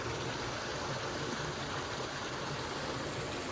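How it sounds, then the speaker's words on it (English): A creek pours over rocks in two small waterfalls on the Mogollon Rim in Arizona, a constant close rushing wash of water with no breaks. "The creek wraps around this large rock configuration and makes two pretty waterfalls on either side of the configuration."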